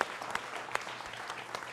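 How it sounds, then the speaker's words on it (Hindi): Studio audience clapping to welcome a panel on a Hindi television debate show about the West Bengal election, dense steady applause with a few sharper individual claps standing out. "जनता जनार्दन आपका जोरदार तालियों के साथ अभिनंदन है"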